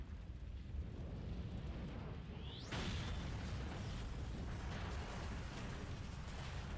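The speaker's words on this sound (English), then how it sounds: "one of the events is to die in that explosion" A loud explosion bursts in the video game Resident Evil: Outbreak. A whoosh rises into a broad roar, and dense rumbling continues over steady game background noise.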